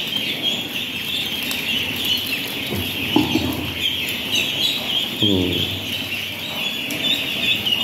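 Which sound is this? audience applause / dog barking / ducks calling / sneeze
ducks calling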